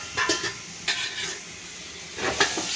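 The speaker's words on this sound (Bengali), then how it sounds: "ডিমটার সঙ্গে মশলাটার সঙ্গে ভালো করে একটুখানি কষিয়ে নেব" Eggs sautéing with spice masala in a pan, heard as a close, steady sizzle with a few brief scraping stirs and soft utensil clinks against the pan.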